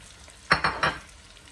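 Three quick stirring scrapes through sizzling chopped onions frying in butter in a pan, close up, then a soft steady hiss of frying.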